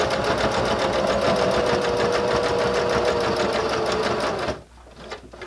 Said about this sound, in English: start with your needle down in your fabric, and we're going to top stitch all the way around